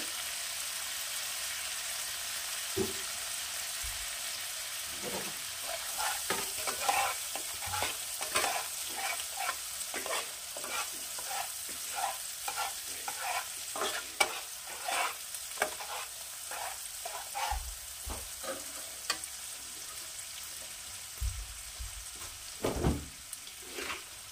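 Spice masala with whisked sour yogurt sautés on a low flame for a Bengali winter vegetable curry, giving a continuous soft sizzle broken by a steady run of scraping stirs and occasional low knocks, close by with no voices.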